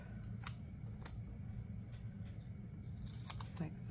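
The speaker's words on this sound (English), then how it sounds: "I think we're gonna cut it" Scissors snip flower stems for a floral arrangement in a few quiet, sharp cuts spaced irregularly over a faint background hum.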